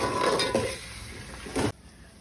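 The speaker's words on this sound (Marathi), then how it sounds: "आता आपण टोमॅटो टाकून हे चांगलं परतून घ्यायचं आहे टोमॅटो पूर्ण गळेपर्यंत" Tomatoes and onion sautéed over high heat in a pan, with a steady clatter of a spoon scraping and stirring against the metal and a faint sizzle, ending abruptly.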